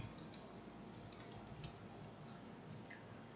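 Typing on a computer keyboard during a CAD drafting exercise, a soft run of light key clicks close by, fairly faint and steady with no voices.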